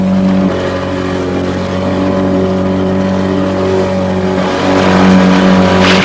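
Car engine running steadily at a loud, close drone, with a rise in throttle near the end and no talk over it.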